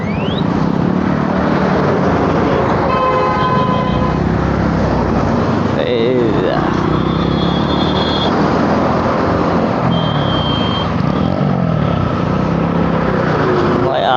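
A Bajaj Pulsar N250 motorcycle on a test ride gives a continuous loud engine roar with shifting revs and wind noise, while someone talks over it.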